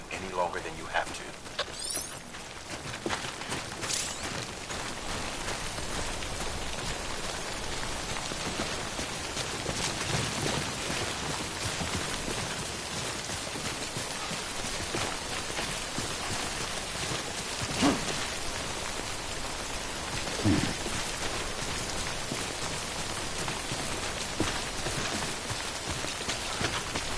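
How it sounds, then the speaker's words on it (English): Steady timefall rain hisses down in the video game Death Stranding, a continuous wash of rainfall with occasional footstep-like thuds and a speaking voice mixed in. "Don't stay out in the rain any longer than you have to."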